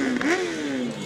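Motorcycles from a riders' group rev their engines at a national bicycle rally in Cienfuegos, Cuba: one close, steady engine note swells and eases back over a brief moment, with no voices.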